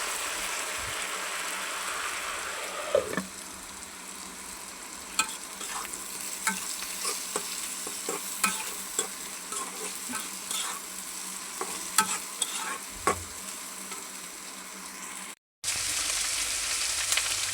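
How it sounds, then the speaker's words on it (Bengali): Eggs and onion sizzle steadily in a pan for a home-style egg bhuna, with a constant close frying hiss and frequent scraping stirs of a spatula at irregular intervals; no one speaks. "আর এই যে এদিকে ডিম পেঁয়াজ দিয়ে বোনা করবো"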